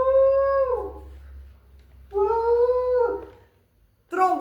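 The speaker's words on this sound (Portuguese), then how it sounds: "Veja que o som do elefante ó, é a mesma coisa do cano." Someone blows into a long pipe, producing three sustained honking tones that bend downward in pitch like an elephant's trumpet, separated by short quiet gaps, close and clear.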